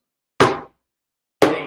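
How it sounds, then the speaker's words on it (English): Two separate bass strokes on a hand drum, struck in the middle with the palm and all fingers, each a deep, full, close thump with a short decay and silence between. "You're going to strike the drum with the palm of your hand and all of your fingers."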